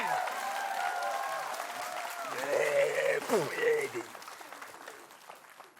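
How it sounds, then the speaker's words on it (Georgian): Audience applause and clapping fill a comedy show hall after a poet is introduced, a dense steady wash of claps swelling in the middle with some cheering voices, then thinning out toward the end. "აპლოდისმენტები"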